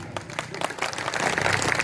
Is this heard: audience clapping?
yes